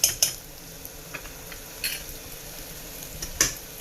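Chili powder and garam masala get stirred into tarka dhal in a pan: a quiet sizzle under a few scattered scraping clinks of a utensil against the pot.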